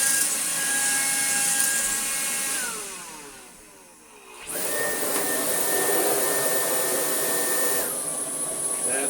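Vacuum cleaner fitted with a Miele floor head running steadily and loudly up close, its whine dipping and falling as airflow is blocked for a moment before roaring back up and holding again.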